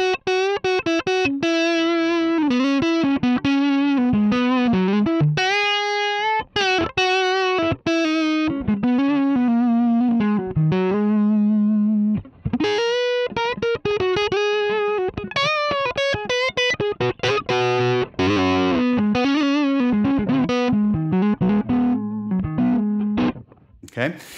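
An electric guitar runs through a Line 6 Helix Minotaur overdrive set to tone 4.5 and gain 3 for a lead tone. It plays a long, continuous melodic phrase with sustained notes and quick runs, mildly driven and up front.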